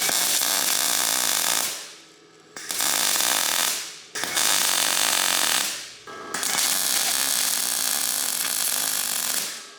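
Loud, steady hissing, crackling bursts come from welding a sprayed JDM exhaust on a DIY drift kart, in three long runs separated by brief pauses.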